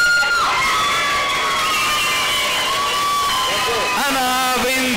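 Crowd at a bodybuilding contest cheering, whistling and shouting continuously for a contestant, loud and sustained with excited voices rising near the end.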